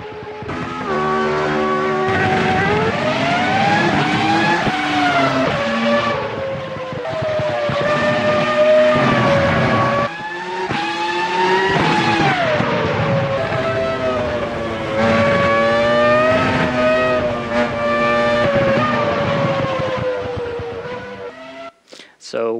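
Formula One car engine sound effects from the Automobilista racing simulator: a loud, continuous high-revving whine that climbs through the gears, drops at each shift and climbs again, with a brief break near the end.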